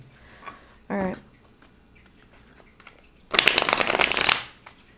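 A deck of tarot cards is shuffled by hand in two bursts, a short riffle followed by a longer, louder rapid riffle, close up with quiet room sound between.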